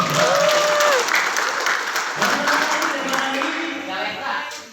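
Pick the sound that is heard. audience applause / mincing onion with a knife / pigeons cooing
audience applause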